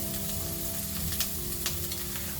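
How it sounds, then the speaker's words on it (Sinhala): Mushrooms stir-frying in a pan, a steady close sizzle with occasional soft scrapes from stirring, continuous and even throughout, no voices. "හොඳට ෆ්‍රයි කරගමු."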